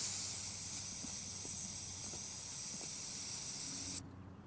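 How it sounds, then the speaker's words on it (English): Compressed air blasting into a chip hole in a truck windshield to clear it before resin repair, a faint, steady, continuous hiss that cuts off abruptly near the end. "don't forget your compressed air. Clean that hole out good so the resin will get down in there"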